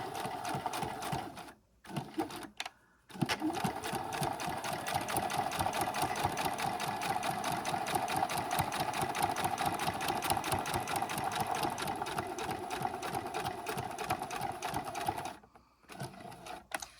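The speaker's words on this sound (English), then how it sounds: "we don't want to sew through the foam, we want to sew beside the foam" A sewing machine stitches a backpack strap alongside its foam padding, a fast steady mechanical whirr with brief stops and restarts near the start and end, close and loud.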